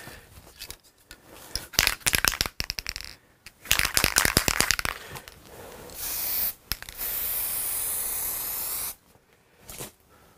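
Bursts of spray finish being applied in coats to a Hofner Galaxie guitar, several short hissing passes followed by longer steady sprays, close and fairly loud, with gusty wind outdoors.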